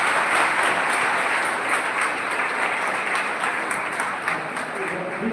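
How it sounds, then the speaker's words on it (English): A large audience of students claps loudly and steadily in a dense round of applause at a B.Tech student orientation program, with voices faintly mixed in. "Big round of applause."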